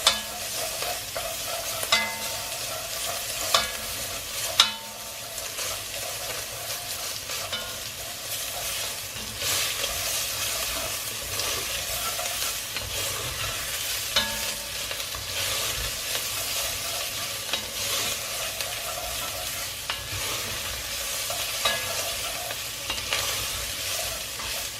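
Tomato puree frying in the centre of a pan for coq au vin, a steady close hiss and sizzle with occasional scraping stirs and no talk.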